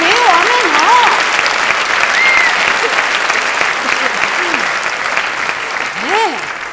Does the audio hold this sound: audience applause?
yes